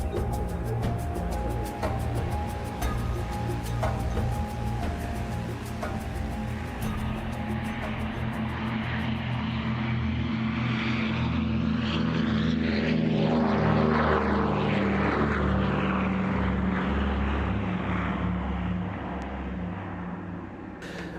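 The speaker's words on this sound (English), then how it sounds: "we saw the Heavy formation, a first-time trio of a pair of Douglas C-47A Skytrains with Boeing B-17G Flying Fortress Sally B" Two Douglas C-47A Skytrains flying in formation with Boeing B-17G Flying Fortress Sally B at the Duxford Battle of Britain air show, a loud, sustained drone of piston propeller engines that swells and shifts in pitch as the aircraft pass.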